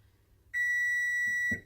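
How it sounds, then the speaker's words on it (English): A 10-minute kitchen timer goes off with one sustained, piercing electronic beep lasting about a second, loud and close in a quiet home kitchen, with a soft knock or clatter just as it ends. "And our 10-minute timer has gone off."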